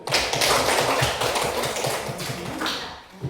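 Applause from a classroom audience for a presenting group, a dense burst of close clapping that fades near the end.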